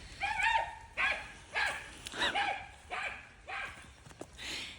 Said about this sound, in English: That's the noise that Mila makes when she sees a pheasant